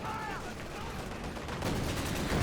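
Rocket artillery fire from a Raketenwerfer in Company of Heroes 2, a soft, distant rumble of launches and impacts that swells toward the end, with a brief whistling tone near the start.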